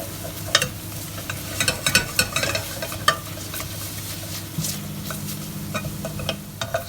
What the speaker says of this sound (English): let that cook for a minute or 2 until you start seeing the oils from the spices coming out into the pan